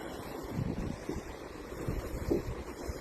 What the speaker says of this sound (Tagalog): So, yung alon, naririnig-rinig kami ba? Napakasarap sa tenga.